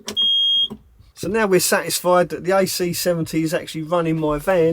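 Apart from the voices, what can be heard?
gas alarm beeping in a camper van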